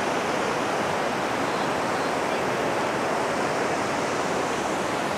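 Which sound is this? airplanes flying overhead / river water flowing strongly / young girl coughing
river water flowing strongly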